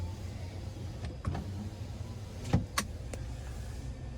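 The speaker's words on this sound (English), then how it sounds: "your rear sliding window" Power rear sliding window of a GMC Sierra 1500 AT4 pickup truck: a soft electric motor whir opening and closing, with a couple of small clicks and thunks as it stops, heard close in a quiet cab.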